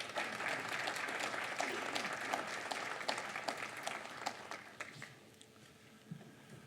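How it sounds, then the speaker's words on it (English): Applause from an outdoor crowd at a memorial dedication, steady and moderately loud at first, then thinning out to scattered claps and fading near the end. "Let's give another round of applause"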